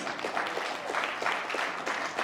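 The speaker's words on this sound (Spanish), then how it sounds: "dele un aplauso fuerte a Jesús" A church congregation claps for Jesus in a steady wash of applause, dense and even throughout, with no voices standing out.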